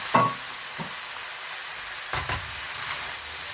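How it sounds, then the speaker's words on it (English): Onions, peppers, green onions, chilies and carrots stir-fry over high heat, a steady sizzle broken by a few sharp scraping stirs and clatters in the pan. "Stir fry these for 5 minutes. Just make sure that you're cooking this on high heat."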